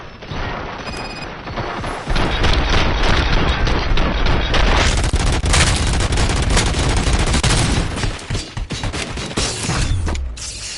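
Sustained gunfire and booming blasts from a firefight in the Robocop Rogue City video game, loud and dense for most of the stretch with mechanical clanks, tapering off near the end.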